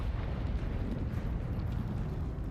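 Confringo spell explosion in a wizard video game, a dense, rumbling blast that fills the whole short moment with steady low roar and no voices.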